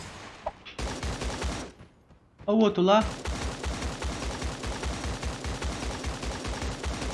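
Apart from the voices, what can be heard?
gunfire in video game Creative Destruction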